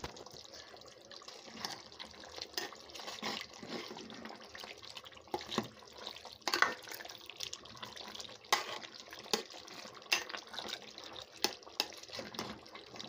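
Country chicken curry stirred in a pot, wet slopping and scraping in irregular bursts with occasional sharp utensil clicks against the vessel, moderately faint and without speech.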